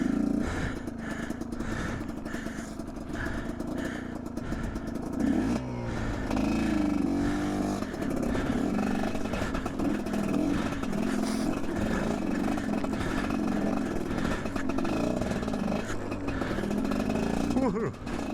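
A 2021.5 GPX Moto TSE250R motorcycle rides a trail with its engine droning steadily and close. The pitch rises and falls as the rider works the throttle, with rushing wind throughout.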